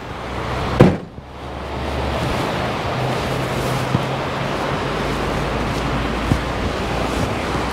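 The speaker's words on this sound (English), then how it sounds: "Boy, is it windy." Strong wind roars steadily against the microphone over a constant wash of lake waves at a Minnesota state park campground, with a brief thump near the start.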